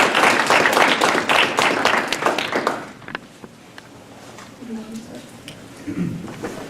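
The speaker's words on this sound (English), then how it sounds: "let's give them a warm round of applause." Warm applause from a university audience for speakers at a Miami University event, a steady wash of clapping for about three seconds that fades into quiet room noise with faint murmurs.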